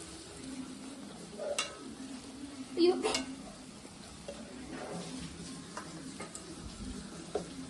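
Maggi noodles being stirred and mixed in a hot pan, with soft scraping and an occasional louder clink of utensil against metal over a faint sizzle.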